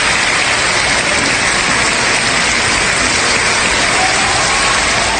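Long, unbroken applause fills a state funeral chapel for a former Chilean president in the Salón de Honor. It forms a loud, dense wash of clapping that stays even from start to finish.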